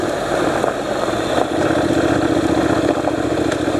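A street motorcycle running on loose, low-grip terrain with Shinko Trailmaster E705 tires, engine note steady and loud throughout, with a brief dip and shift in pitch near the middle as it drops a gear or two.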